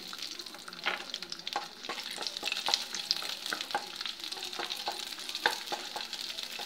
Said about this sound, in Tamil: பூண்டு கொஞ்சம் நல்லா ப்ரௌன் ஆகட்டும்